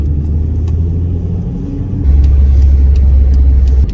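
An Isdera Commendatore 112i sports car with a V12 engine sends a loud, steady low rumble that swells louder about halfway through as it passes close by, with no voices.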